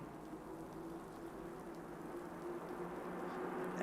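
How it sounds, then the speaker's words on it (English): Rain falls steadily at the Silverstone race circuit during a GT4 race, a constant soft, even patter with no talk over it. "As the rain comes down,"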